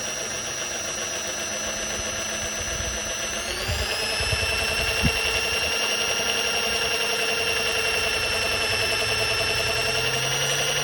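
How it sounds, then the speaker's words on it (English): A drill boring a guide hole through an old, soft steel gear-stick bolt on a Rover P4, a steady whining hum that rises in pitch partway through, with a faint knock, continuous and fairly close. "I'm going to try and do a guide hole through this to then put the extractor bit into"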